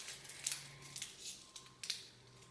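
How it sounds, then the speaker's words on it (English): A sticker is peeled off its backing during a jar gift craft, giving a few faint, soft crackling rips close by in a quiet room. "if I can get the sticker off"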